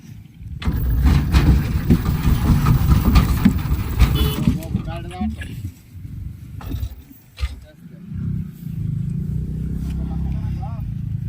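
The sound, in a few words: Mishu auto rickshaw engine driving through river sand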